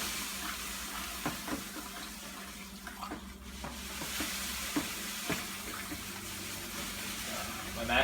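Grain being stirred into mash water for an all-grain hefeweizen homebrew, heard as faint watery sloshing and soft scraping with scattered small knocks over a steady background hiss, with no voice.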